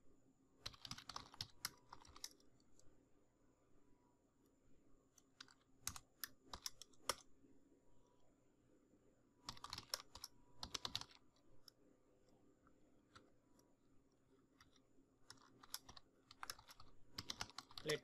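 Bursts of rapid keystrokes clatter on a computer keyboard while jQuery code is typed, separated by quiet pauses, with no talking.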